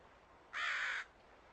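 One harsh, nasal crow caw, short and fairly clear, standing out against quiet background hiss.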